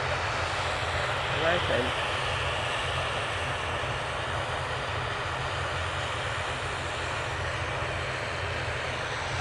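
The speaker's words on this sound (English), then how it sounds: "TUI is due in." A TUI passenger jet arriving at Manchester Airport gives a steady, broad engine roar that holds at an even level throughout, with a brief voice speaking over it.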